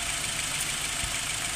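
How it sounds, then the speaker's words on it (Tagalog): A Nissan X-Trail engine idles smoothly after an air intake hose repair, giving an even, steady hum heard up close with no talking. "Okay yung andar niya, yung takbo na wala yung panginginig sa makina."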